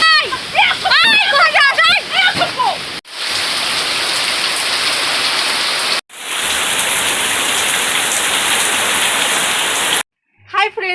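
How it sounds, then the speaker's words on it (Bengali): Wind and rain pour down in a loud, steady wash of broadband noise that runs in long unbroken stretches, with a brief stretch of voice-like sound near the start and a quieter moment at the end. "যেমন হাওয়া তেমন বৃষ্টি ভালোই তো বৃষ্টি হচ্ছে দেখছি"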